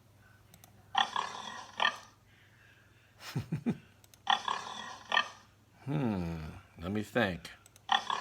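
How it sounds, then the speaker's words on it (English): A pig grunts and oinks in several short bursts, some nasal and rising, with quiet pauses between them and a voice speaking briefly over the sounds. "It's a pig."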